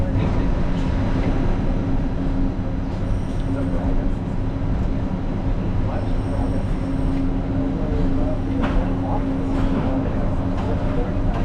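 Disneyland monorail train riding along its track, a steady rumbling cabin drone with rattles and a hum, heard from inside the car, with a recorded announcement voice speaking over it.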